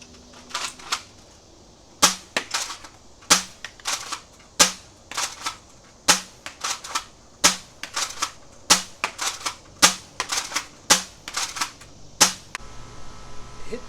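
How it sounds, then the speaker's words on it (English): A Gameface Prime foam dart blaster fires a magazine of darts at targets outdoors, producing a long series of sharp, close snapping shots in an uneven rapid rhythm, some bunched in quick pairs, with no talking. "Probably dump the magazine on that, reload, and then try for the smaller targets."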